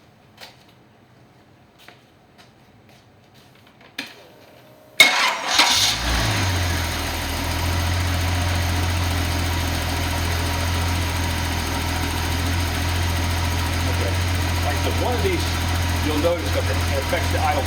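An old car engine cranks and fires after a few quiet clicks and handling sounds, then settles into a loud, steady idle that continues to the end.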